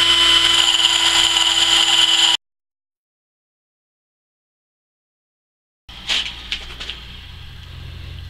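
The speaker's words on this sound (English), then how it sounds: "the final one we're going to talk about is the bench grinder method" A bench grinder with a diamond wheel grinds a tungsten welding electrode tip: a steady high whine with a bright tonal ring, then silence, then the grinder returns with short scraping bursts as the tip is pressed to the wheel.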